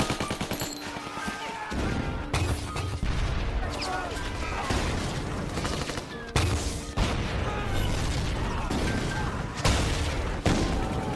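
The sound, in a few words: gunfire and mortar fire in a war film battle scene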